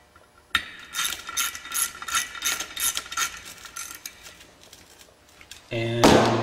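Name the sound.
ratchet tightening clutch cover bolts, Polaris Sportsman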